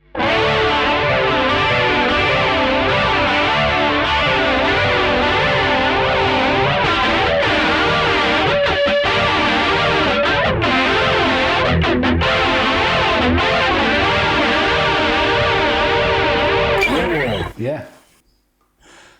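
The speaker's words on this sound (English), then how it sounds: "Even at a high gain sound with the volume rolled back a bit, you still get great note separation." A high-gain distorted PRS SE Hollowbody McCarty electric guitar, volume rolled back, plays a steady, driving riff with clear individual notes and a chorus-like shimmer, stopping abruptly near the end.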